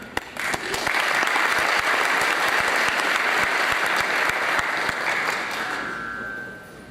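An audience at a London event bursts into sustained applause, loud and dense from a large crowd, starting abruptly and fading toward the end.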